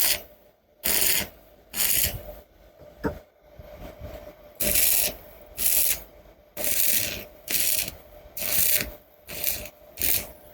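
Home welding machine joining two pieces of iron, heard as repeated bursts of harsh crackling hiss, about nine short pulses in a steady rhythm separated by brief quiet gaps, close and fairly loud.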